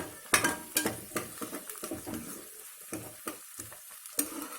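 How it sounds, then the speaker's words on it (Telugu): Onions frying in a pan, with repeated scraping and clinking strokes of a utensil stirring against the metal over a soft sizzle. "ఆనియన్స్ వేగుతున్నాయి కదా"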